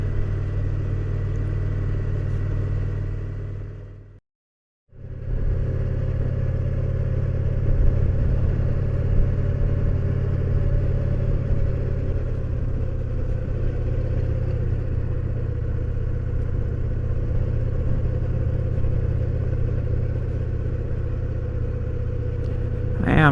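A Victory Vision touring motorcycle rides slowly along a smooth dirt road, its engine humming steadily and close throughout, with a brief drop to silence near the start and light clatter from the road surface.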